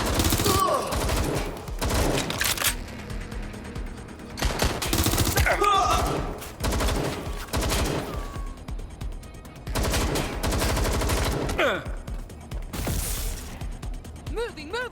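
Gunfire in the video game Watch Dogs: Legion, bursts of rapid automatic shots and single cracks in irregular clusters, loud and close, with voices calling out between the volleys.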